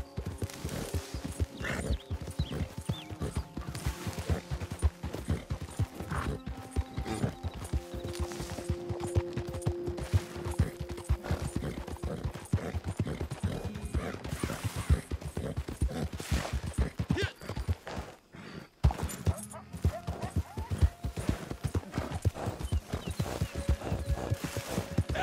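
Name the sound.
horse galloping, from video game Red Dead Redemption 2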